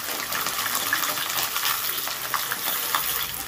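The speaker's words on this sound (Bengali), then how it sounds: "তেলটা ভালো করে গরম হলে দিয়ে দিলাম লম্বা লম্বা করে কাটা আলুগুলো" Long-cut potatoes fry in hot mustard oil, giving a steady, close, dense sizzle throughout, with faint scraping stirs and no talking.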